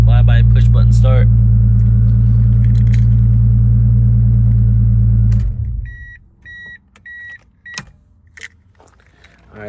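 A Nissan Skyline R33/R34 engine, just fitted with a new ignition switch, idles with a loud, steady low rumble before cutting off, followed by a few short electronic beeps and faint clicks.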